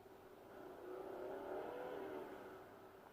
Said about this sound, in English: Now as you can hear when I rev it up under the engine